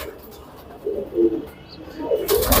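Soft cooing of Allahabadi pigeons rises and falls in short murmuring bursts, with a brief rustle at the end.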